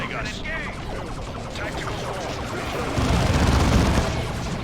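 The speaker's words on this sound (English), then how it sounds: "Tarkus, throw a grenade for me, please." Grenade explosion and gunfire in Dawn of War II, a dense clatter of shots and impacts building into a louder booming blast near the end, with game voices and effects layered throughout.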